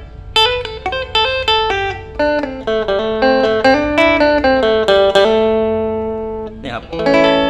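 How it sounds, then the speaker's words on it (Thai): A clean electric guitar plays through a Kazuki KA-20 guitar amp, bright, ringing notes and chords picked in a steady run, then one long sustained chord with a final strum, loud and close. "นี่ครับเสียงคลีนเขาสดใสมาก"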